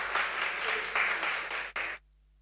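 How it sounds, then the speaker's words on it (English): Audience at an Indian embassy food industry symposium in the UAE applauding in a dense burst of clapping, ending with a short final flurry before silence. "we must clap"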